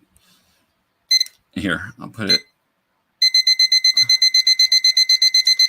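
An electronic timer alarm goes off after a few spoken words: a fast run of sharp, high beeps repeating in a steady rhythm, loud and close, continuing to the end.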